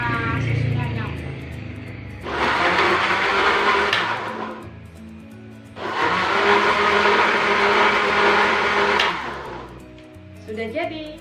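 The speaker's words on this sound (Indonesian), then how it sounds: "Selanjutnya kita blender sebentar biar pisang sama susunya nyambung." A blender whirs loudly in two sustained bursts of roughly three to four seconds each while banana and milk are blended, with quieter pauses between the bursts.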